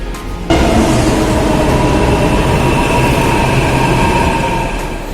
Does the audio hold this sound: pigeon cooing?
no